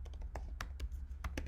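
Quick bursts of typing on a computer keyboard, a handful of sharp irregular clacks close by over a low steady hum, with no talking.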